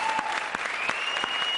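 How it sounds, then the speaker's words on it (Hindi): A studio audience on a TV comedy show claps in a dense, sustained burst of applause, steady and fairly loud throughout with a few sharper individual claps standing out, no speech over it. "ठोको ताली अर्चना के नाम पे"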